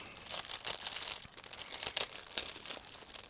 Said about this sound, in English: we have the last plastic bag with gray sprues, so I'm going to cut through it